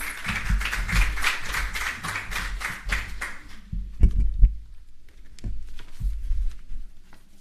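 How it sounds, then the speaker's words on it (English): Applause from an audience welcoming a student speaker at a student loans and grants event, steady rhythmic clapping for about three and a half seconds, then thinning into a few scattered claps and taps. "Clap her, please."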